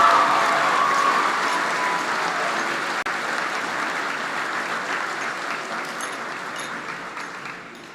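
Sustained applause from a large audience at a high school graduation ceremony for the graduates, a broad steady wash of clapping that eases slightly toward the end.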